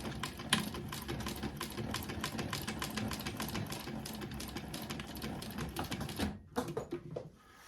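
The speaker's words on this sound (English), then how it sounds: "Okay, let's go and sew it. Just sew across here." A sewing machine stitches across a bookmark with a rapid, steady mechanical clatter that runs for several seconds, then stops near the end with a few slower clicks.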